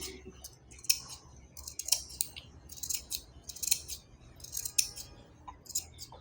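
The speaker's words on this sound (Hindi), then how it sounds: "ये मैंने इस कपड़े को बारीक बारीक कटिंग कर लिया।" Scissors cutting fabric scraps into fine pieces for button filling, a steady series of crisp close snips repeating about once a second with soft rustling between them and no talk.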